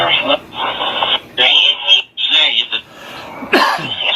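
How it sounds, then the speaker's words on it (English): Several harsh coughs and throat-clearing sounds, close up, with a muffled voice briefly speaking between them. "now I got a cough"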